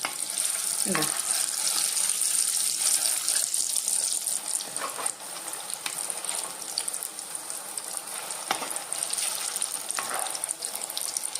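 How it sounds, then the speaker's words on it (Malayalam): Sukhiyan frying in hot oil, a continuous dense hiss and bubbling sizzle close by, with a few louder crackles and spits scattered through and no talk. "നമുക്കിങ്ങനെ എല്ലാം ഒന്ന് ഫ്രൈ ചെയ്തെടുക്കാവേ"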